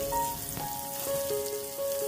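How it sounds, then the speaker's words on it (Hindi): Pointed gourd (potol) frying in mustard oil, browning for a prawn curry; a soft, steady sizzle with a few faint clinks and scrapes, fairly quiet and with no voices. "अब मैं इसमें पटल को डाल दे रही हूँ और इसे मैं अच्छी तरह से डार्क ब्राउन करके फ्राई कर लूँगी।"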